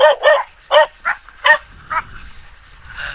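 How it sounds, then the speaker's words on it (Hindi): A mountain dog barks in short sharp bursts, about six loud close barks at uneven intervals, followed by softer yips and whimpers over faint background rumble. "ये देखिए पहाड़ का कुत्ता"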